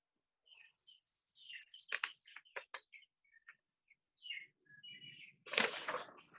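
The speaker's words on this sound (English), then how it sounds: "the bird song is just really making this meeting for me" Birds sing and chirp in the countryside, with a run of varied high tweets and trills at fairly close range, alone with no voices, ending in a brief noisy rustle.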